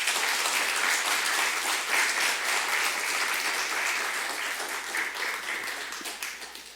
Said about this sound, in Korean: 박수로 우리 목사님 모시겠습니다.